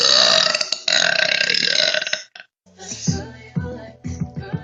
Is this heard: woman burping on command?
yes